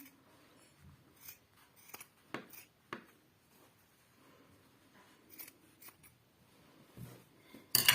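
Scissors cutting through fabric for a yogurt-fermenting cover, with several short crisp snips and rustles spaced irregularly, close up and fairly quiet with no talking.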